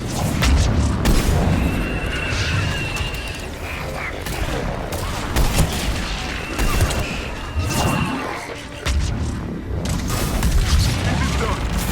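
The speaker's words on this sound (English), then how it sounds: "Missiles are hot." Missile strikes in Mass Effect 3 combat, repeated heavy booms and blasts rolling over a busy battle din, with voices talking over the action.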